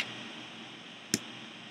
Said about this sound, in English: There, do you hear that snap?